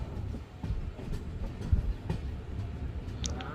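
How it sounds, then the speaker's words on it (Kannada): Passenger train pulling into Kudachi railway station on the Miraj–Belagavi route, a steady low rumble with soft rhythmic clatter of the wheels and a few sharper knocks, heard from on board. "ನಮ್ಮ ಟ್ರೈನ್ ಈಗ ಕುಡಚಿ ರೈಲ್ವೆ ಸ್ಟೇಷನ್ಗೆ ಎಂಟ್ರಿ ಆಗ್ತಿದೆ"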